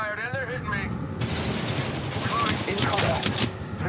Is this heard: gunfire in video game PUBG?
yes